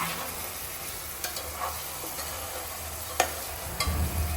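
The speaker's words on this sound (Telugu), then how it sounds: "ఈ మసాలా ఈ ఎగ్స్ కూడా పట్టేటట్టు బాగా కలుపుకోవాలి." Boiled eggs are stirred into masala in a pan for Hyderabadi egg dum biryani, giving a soft continuous sizzle with a few light spoon taps and scrapes, close and fairly quiet.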